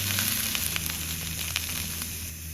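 Sliced okra frying in a pan for fried rice: a loud, dense, close sizzle that crackles steadily throughout, with no talking.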